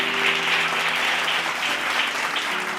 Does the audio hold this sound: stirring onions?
no